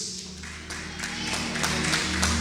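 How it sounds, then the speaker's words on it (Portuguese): A church congregation claps together in steady, fairly even applause, moderately close and sustained throughout, with low organ or keyboard tones humming underneath. "Bate uma salva de palmas e toma teu assento, em nome de Jesus."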